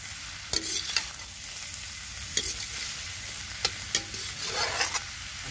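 Turmeric roasts in a pan for a village-style breakfast dish, giving a soft steady sizzle with several sharp scrapes and taps of a spoon stirring against the metal.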